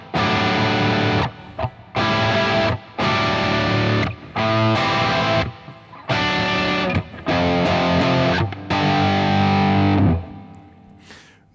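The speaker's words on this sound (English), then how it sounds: "So the harder you attack, the more distortion you have." Hard-strummed distorted electric guitar chords ring out in loud bursts of about a second each, separated by brief silences, with no voices.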